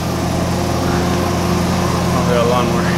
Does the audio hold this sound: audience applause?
no